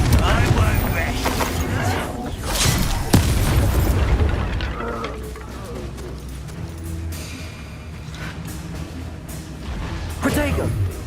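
A Confringo blasting spell goes off in a Harry Potter-style game, with deep booming explosions and crackling bursts amid spoken spell casting and combat noise, loud and close.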